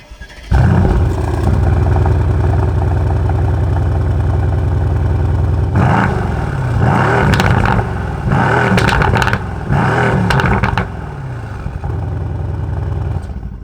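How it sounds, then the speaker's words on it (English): A 2019 Mercedes-AMG C63s Estate engine cranks and fires into a loud, steady idle, then revs sharply several times in quick bursts before settling back to a rumbling idle. "let's hear what the C63s Estate sounds like on startup"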